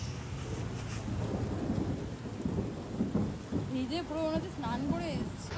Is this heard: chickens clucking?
no